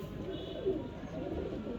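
Lakha pigeons coo softly in a breeder's loft, a low continuous murmur with a brief sharper note partway through and faint background noise.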